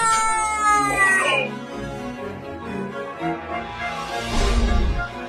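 A cat meows and yowls loudly and close by, drawn-out harmonic cries in the opening seconds, with more strained caterwauling later over cluttered background noise.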